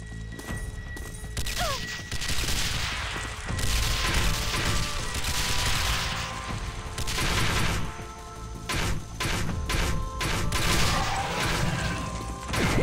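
Rapid bursts of gunfire and crashing impacts from the video game Banzai Escape, loud clustered shots and explosions recurring throughout with brief lulls between volleys.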